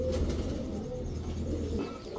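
Pigeons of fancy breeds such as Pakistani teddy, gorra and chila cooing softly in a low, continuous murmur, without talk.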